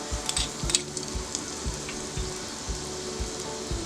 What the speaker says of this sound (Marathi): तेल तापलेलं आहे, लसूण, आलं,